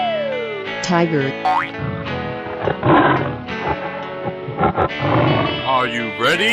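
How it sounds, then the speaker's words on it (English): A tiger roars in a 3D animal video game: gritty, growling bursts mixed with cartoon boing effects and music, with voices talking over it. "Tiger."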